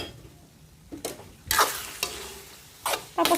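Garlic leaves are tossed and stirred into sotanghon noodles frying in a pan, giving several scraping, rustling stir strokes over a soft sizzle, each burst sharp and close.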